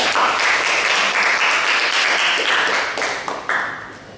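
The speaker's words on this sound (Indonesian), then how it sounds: "beri aplaus untuk kelompok 1" A classroom group claps for a presenting student group, a dense burst of applause from many hands that holds steady, then thins and tapers toward the end.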